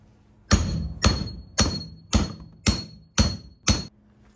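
Seven sharp, evenly spaced hammer blows ring out close and loud, each with a short metallic decay, as an electric motor is split open to get at its copper windings.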